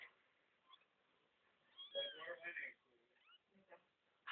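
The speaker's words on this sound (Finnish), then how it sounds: "Siinä on meidän kissan pentuja." Young kittens at home giving a few thin, high meows in short bursts, faint and close, with quiet gaps between cries.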